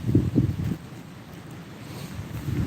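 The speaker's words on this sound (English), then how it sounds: "the wind is just insane today" Gusty wind buffets the microphone in low rumbling bursts, strongest at the start, with steady blustery noise continuing throughout.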